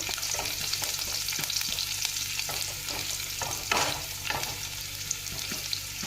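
Finely chopped garlic frying in oil, a continuous close sizzle with scraping stirring strokes across the pan and no talk.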